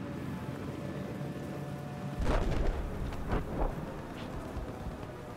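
A storm weather event in the video game Battlefield 4 brings a few heavy rumbling thunder-like booms over steady rain-like noise, with no talking.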